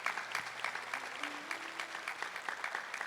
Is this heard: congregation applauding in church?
yes